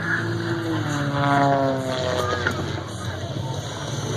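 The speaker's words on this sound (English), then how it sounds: "you heard that engine protesting" A propeller airplane engine drones loudly nearby, its pitch sliding and wavering as the engine strains, with a voice faintly underneath.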